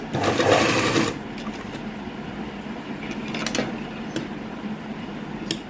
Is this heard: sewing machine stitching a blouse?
yes